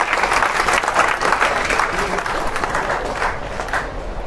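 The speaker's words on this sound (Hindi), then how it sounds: "एक बार इन पे ताली होनी चाहिए कि नहीं होनी चाहिए?" Audience at a motivational seminar in Goa breaking into loud, sustained applause, dense clapping from a large crowd that continues steadily throughout.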